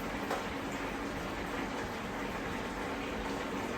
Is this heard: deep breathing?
no